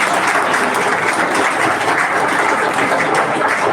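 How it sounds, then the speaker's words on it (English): A town hall audience in Nigeria gives a round of applause to welcome a visiting president, loud, dense clapping close by, sustained evenly throughout with no talk. "Can we give a round of applause?"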